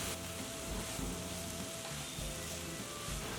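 Chopped leafy greens tossed into a pan of turmeric-seasoned, nearly cooked vegetables sizzle and crackle steadily, with soft stirring scrapes underneath, close and continuous throughout.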